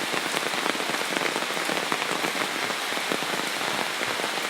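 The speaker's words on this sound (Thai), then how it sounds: "ฝนที่ตกนี้ก็เสียงจะเป็นเสียงของเสียงฝนตกนะครับ" Heavy rain falling outdoors in Wang Nuea, Lampang, a dense, steady hiss of drops pattering on surfaces all around, continuous and close with no voices.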